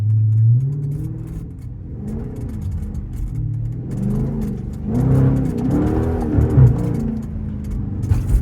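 A Chrysler 300 with a 5.7 Hemi spins its tires on ice: a steady, loud engine drone rises and falls with revving, surging harder toward the end as the wheels slip and slide, without any talk.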